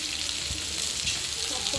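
Finely chopped onion fries in a pan for an onion manchurian, a constant close hiss and sizzle with a few faint stirring knocks underneath.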